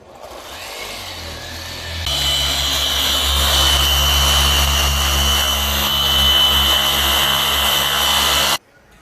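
Machine polisher running on a car's clear coat during a ceramic coating detail job, a steady loud motor drone that starts after a quiet lead-in, holds for several seconds and then cuts off abruptly.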